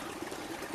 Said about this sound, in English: the water, of course, has found its way down, right down into its own very